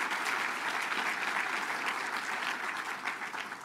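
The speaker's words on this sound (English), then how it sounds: "Let's give a round of applause for everyone who's a part." A crowd at a Kansas City civic announcement about hosting the 2026 FIFA World Cup claps in a dense, steady round of applause that holds at an even loudness and tapers slightly at the end.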